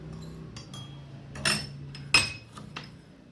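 A spoonful of sugar is added to a glass, the spoon clinking against the rim two or three times, sharp and close against a quiet background.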